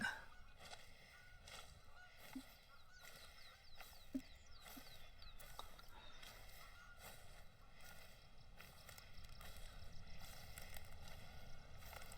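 Geese honk in TheHunter: Call of the Wild, a few faint, distant calls scattered over steady outdoor ambience with soft wind and bird chatter.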